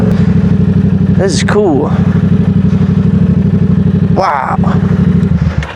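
A Yamaha R7 motorcycle fitted with an M4 exhaust idles loud and close with a throbbing, even rumble throughout, while someone talks excitedly over it in short bursts.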